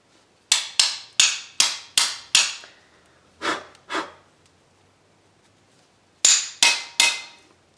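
Sharp metallic hammer taps seat a rear brake part on a 2005 Buick Rendezvous. A quick run of six taps is followed by two softer ones and then a final burst of three, each ringing briefly and close up, with no talking.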